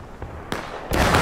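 Musket volley fire in a War of Rights battle at the East Woods: several sharp broadband cracks, one faint, one louder, then a dense burst of overlapping shots near the end, all close and loud.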